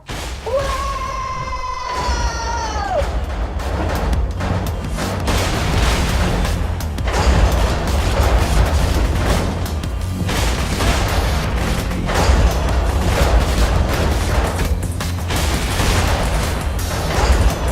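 In the video game Borderlands 2, a cannon blasts down a gate, heard as a sustained heavy booming roar with crackling rumble filling the whole stretch after a brief electronic whine at the start.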